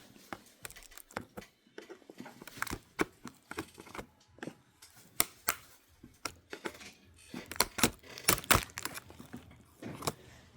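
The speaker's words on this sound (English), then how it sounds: "I just lift up the keyboard here with one hand." Plastic clicks and rattles as a Lenovo Ideapad 100 laptop keyboard is lifted out by one hand, a close, irregular run of sharp taps and snaps with small scraping between them, no talking.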